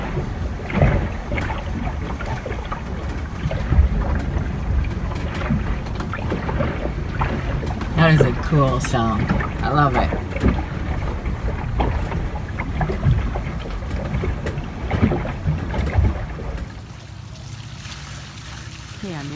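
Water rushes past a moving boat's hull, heard from below deck as a loud, continuous roar with gurgling swells, while a person briefly speaks partway through.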